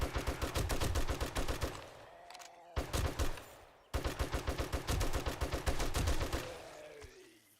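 Rapid automatic gunfire sprays at feral zombies in the video game 7 Days to Die, loud close bursts of fast repeated shots, cut by two brief pauses and ending with a fading echo.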